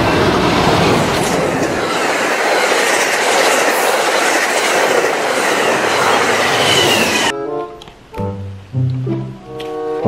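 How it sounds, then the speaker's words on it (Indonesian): A high-speed train in Jurassic World Evolution 2 roars past loudly with a steady rushing rumble and clatter, then cuts off abruptly to quieter tonal music-like sounds. "kereta api cepat"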